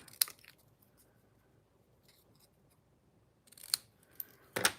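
Scissors trimming the edge of card paper for a handmade Christmas card, giving a crisp snip near the start and a couple more close, sharp cuts at the end, with quiet handling between.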